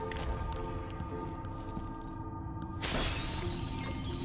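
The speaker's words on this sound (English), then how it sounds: "I like how I break the glass, but I don't break the glass bottles behind the glass." Glass shatters in the stealth video game Dishonored 2, a sudden bright crash near the end that breaks over a steady game ambience of low hum and tonal drones, with the fragments ringing out to the close.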